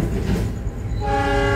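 Close, loud rumble of a passing passenger train in Cikarang, Indonesia, then a train horn blasts in over the noise for the last half second.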